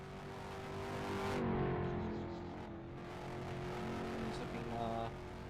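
A race car engine drones steadily as the car pulls out onto a racetrack in a Superstar heat race, heard at a distance and fairly faint, with the pitch shifting slightly over a constant background hum.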